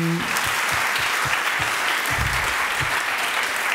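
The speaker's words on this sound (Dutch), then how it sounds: "daverend applaus voor mijn sprekers van de laatste tafel" Loud, dense applause from a Dutch debate audience for the speakers of a final panel, a continuous roar of many hands clapping throughout.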